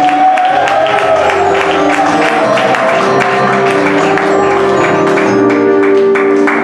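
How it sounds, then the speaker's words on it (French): A church congregation at a consecration ceremony for deaconesses and preachers applauds and cheers loudly and steadily, with crowd noise and tonal music or bells sustained throughout. "Acclamons le Seigneur pour lui, s'il vous plaît"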